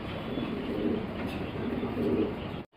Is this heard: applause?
no